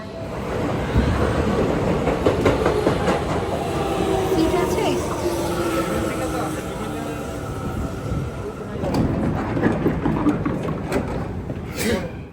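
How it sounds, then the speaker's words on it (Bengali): A train pulls into a station in Japan, a loud, continuous rumble with rhythmic rail clatter and squealing wheels close by, swelling again near the end. "ওই যে আমাদের ট্রেন আসছে"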